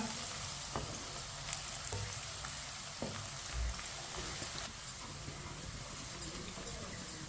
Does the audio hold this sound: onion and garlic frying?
yes